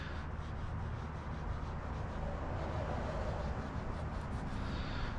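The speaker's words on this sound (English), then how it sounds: "So I'm just working it into the rubber." Tire dressing being worked by hand into the rubber of a car tire, a steady close scrubbing and rubbing sound that runs continuously without pause, with no talking.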